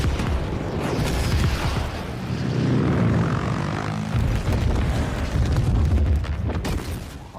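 Massive CG explosions destroying a rocky base in Dune 2, a loud sustained rumbling roar with deep booms and layered blasts throughout, swelling and rolling without any talk.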